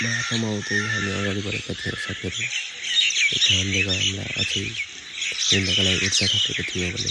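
Small birds chirp and squawk along a Himalayan mountain trail, fairly faint and scattered behind someone speaking almost throughout, with brief gaps where the calls come through more clearly.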